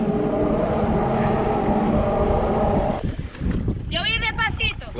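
A jet ski roars through rough waves with a loud, steady engine drone and wind buffeting, then drops off abruptly as voices shout and talk nearby.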